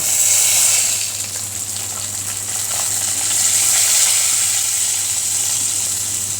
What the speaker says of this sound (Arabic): الشعريه خدت معانا اللون الذهبي، هنزل عليها بكوبايتين الرز اللي انا غسلاه